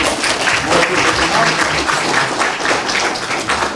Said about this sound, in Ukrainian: Аплодисменти на